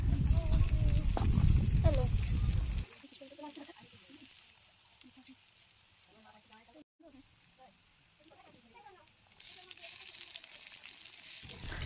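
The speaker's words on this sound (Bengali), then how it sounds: "মাছ ভাজার তেলে পেঁয়াজ রসুন কুচি দিয়ে দেব" Chopped onion and garlic sizzle loudly in oil left from frying pangas fish, hissing strongly for a few seconds. The sizzle then drops to a quiet crackle under talking and surges back near the end.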